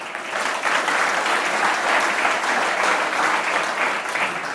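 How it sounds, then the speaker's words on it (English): Loud, close applause from an audience at a magic show as a volunteer joins the performer on stage, a dense steady wash of clapping holding at full strength from start to finish. "Round of applause for the gentleman."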